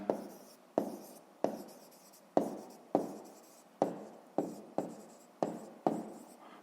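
A pen writes on paper while a fifth-grade math exercise is worked out, with about ten crisp scratching strokes in a regular rhythm, each one starting sharply and trailing off. It is close and quiet, with no talking.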